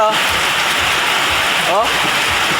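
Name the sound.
heavy rain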